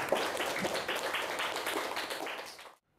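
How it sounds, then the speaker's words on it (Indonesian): Students in a classroom clap for a classmate, a soft, dense patter of many hands that holds steady for a few seconds before cutting off abruptly into silence. "Beri tepuk tangan untuk teman kita"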